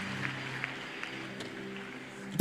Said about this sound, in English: Clap your hands for the Lord, everybody.